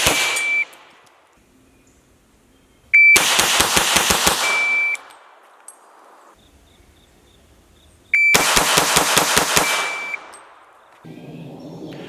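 Pistol cadence drill at 3 yards: two loud, rapid strings of gunshots, each with a shot timer beep, separated by quiet pauses on the range.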